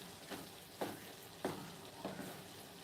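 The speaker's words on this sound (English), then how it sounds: "all of this is cooking down in the pot" Vegetables cooking down in a pot give a soft, steady sizzle and bubble, broken by a few gentle stirring scrapes from a wooden spoon at regular intervals.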